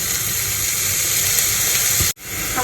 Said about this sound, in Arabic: هنزل بقى باللحمه، خلاص البصل بدا يدبل